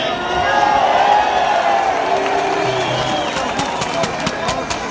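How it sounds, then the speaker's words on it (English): An outdoor rally crowd cheers and shouts in a sustained, loud roar, with scattered claps and whistles over the steady mass of voices. "So, what a great crowd here today."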